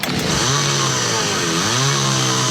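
A chainsaw revving in a hardware store radio advert, a loud, close, buzzing two-stroke engine whine that rises and settles in pitch as the throttle changes, running continuously with no talk over it.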